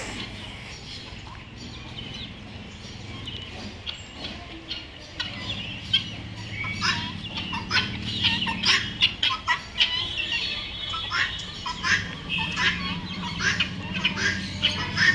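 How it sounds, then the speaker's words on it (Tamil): A rooster in an open enclosure at Garuda Park in Pondicherry clucks and squawks in irregular bursts that grow busier toward the end, heard fairly close over a low outdoor background. "இதுதான் பார்த்தீங்கன்னா சேவல்."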